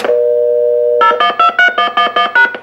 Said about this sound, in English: for systems that require a long time to return dial tone